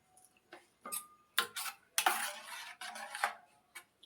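Curd being stirred into ground masala in a bowl with a spoon, with a series of short clinks and scrapes against the bowl, close and moderately loud, with no talking.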